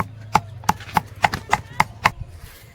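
Grinding spice paste for a coconut mash on a stone in a village kitchen: a steady run of sharp, evenly spaced knocks, about eight, close and fairly loud over a low hum.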